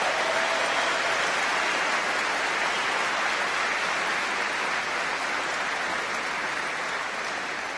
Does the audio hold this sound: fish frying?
no